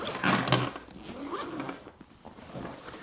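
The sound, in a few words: zippers opening on Bellroy Transit Pro backpack clamshell compartment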